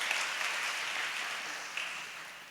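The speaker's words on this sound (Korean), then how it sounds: "큰 박수 부탁드리겠습니다" Applause from a crowd at a young adults' and university students' joint worship service, a steady broadband wash of clapping held for the whole stretch and fading slightly toward the end, with no talk over it.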